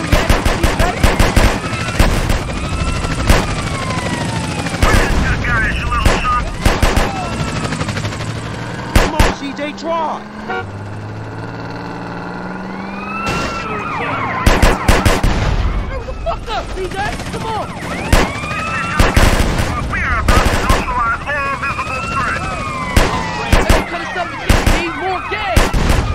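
Sustained automatic gunfire and single shots in a GTA San Andreas drive-by with a Hyundai Santa Fe, loud and near, bursts repeating through most of the stretch with brief lulls, shouted voices and game sounds mixed in.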